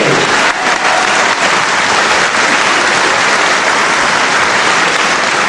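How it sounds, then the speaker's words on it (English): A wrestling crowd at a 1977 UK bout applauding, a loud, dense, sustained roll of clapping that fills the hall without a break. "I doubt if the crowd will stop applauding before the start of round 6"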